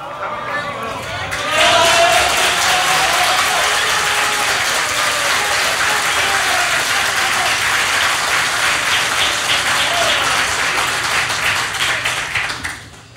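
A live comedy audience breaks into loud, sustained applause that swells within a second or two and holds steady as a dense wash of claps before tapering off at the end, with no voice over it.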